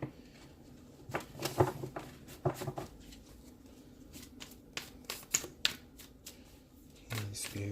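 A deck of tarot cards is shuffled close and softly, with repeated riffling and flicking bursts between quieter pauses, while a faint voice is present in the background.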